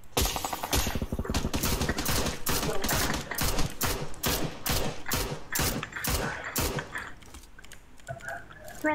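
Rapid bursts of PUBG gunfire crack in quick succession, loud and close, a long volley that thins out toward the end.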